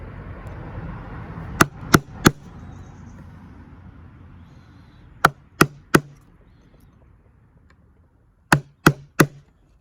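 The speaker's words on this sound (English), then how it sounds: "So I'm going to chop down to that." Chisel chopping into an ancient oak beam during a barn renovation, sharp wooden strikes in three groups of three evenly spaced blows, near and loud over a quiet room.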